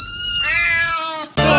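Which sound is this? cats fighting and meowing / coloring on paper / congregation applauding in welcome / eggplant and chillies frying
cats fighting and meowing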